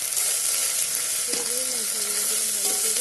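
Ginger-garlic paste frying with browning onions in a pan while making a coconut-milk banana flower curry, a steady loud sizzle throughout, with a short tonal squeak from stirring midway and another near the end.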